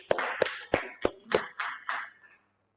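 About eight sharp hand claps in a steady, evenly spaced rhythm at an indoor session, each clap crisp and close, fading slightly toward the end before stopping.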